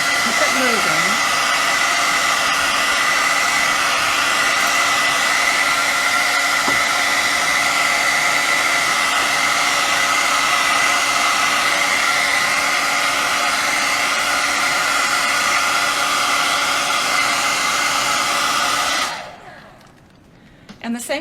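Steady, loud hair dryer blowing continuously for a long stretch, then switching off near the end.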